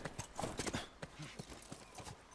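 Horse hooves clip-clopping in The Last of Us, a steady run of hoof strikes at moderate level with faint game ambience beneath.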